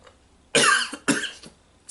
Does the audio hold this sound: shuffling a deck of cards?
no